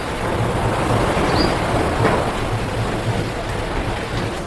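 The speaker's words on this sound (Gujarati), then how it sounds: "સાથે કેવું વાવાઝોડું ઉપડી ગયું છે કે ધૂળની તો ડમરીયું ઉડે છે." A windstorm blows outdoors with strong gusts and scattered raindrops, a loud continuous roaring wash with faint patters on top that holds steady throughout.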